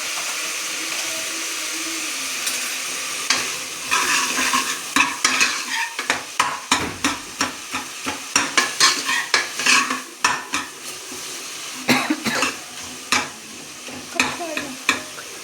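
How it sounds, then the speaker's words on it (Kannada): Onions frying with ginger garlic paste in a pan for chicken masala give a constant close sizzle, broken by a rhythmic series of scraping stirs with the spoon. "ಈರುಳ್ಳಿ ಚೆನ್ನಾಗಿ ಫ್ರೈ ಆಗುತ್ತೆ ಉಪ್ಪು ಹಾಕಿದ್ರೆ"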